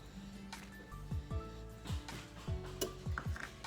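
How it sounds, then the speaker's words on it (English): A sauce mixture of honey and grated Parmesan being stirred in a bowl: quiet, close spoon scrapes and light clinks in a quick irregular rhythm, with faint background hum. "Gonna give that a nice mix."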